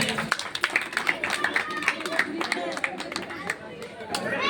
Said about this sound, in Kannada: ಜೋರ ಚಪ್ಪಾಳೆ ದಂಪತಿಗಳಿಗೆ